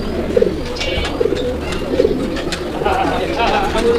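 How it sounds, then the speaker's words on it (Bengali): Pigeons in a loft, including a female, giving several soft repeated coos close by, with someone talking over them and background chatter. "এটা হচ্ছে আপনার মাদি কবুতরটা"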